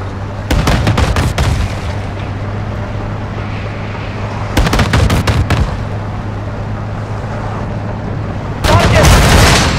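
Heavy gunfire in the video game Modern Warfare 2 comes in three loud bursts of rapid shots and booms, separated by a steady rumbling drone of battlefield background.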